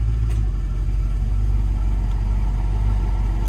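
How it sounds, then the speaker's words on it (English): A 1974 Jensen Interceptor Mk 3 idles close by, a heavy, steady low rumble with slight shifts in tone under the steady whoosh of its air-conditioning fans. "you can also hear the engine change"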